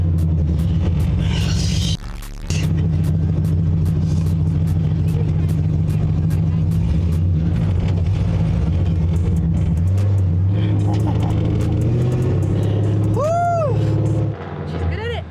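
A car engine in a driving video game drones steadily and loudly, shifting pitch as gears change, with a brief drop and a rising whine near the end while people talk over it.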